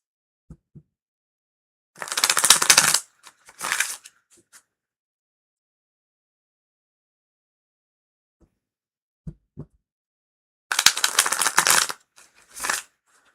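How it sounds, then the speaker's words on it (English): Two short bursts of tarot cards being shuffled, close up and crisp, separated by quiet with faint small handling noises. "They just need more shuffling."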